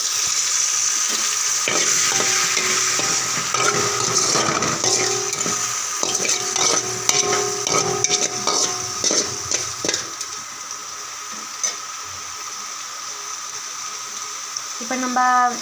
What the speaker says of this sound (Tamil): இப்போ இதில் வந்து நான் கொஞ்சம் புளி தண்ணி ஆட் பண்ணிக்கிறேன்.